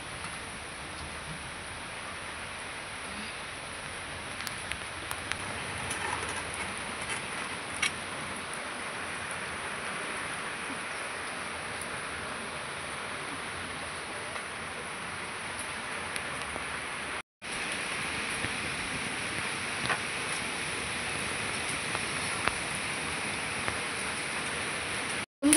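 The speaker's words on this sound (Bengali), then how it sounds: "দিন দুদিন বাদে বাদে খুব বৃষ্টি হচ্ছে" Steady rain falls outdoors as a soft, even hiss with faint scattered ticks of drops, continuous and fairly quiet throughout.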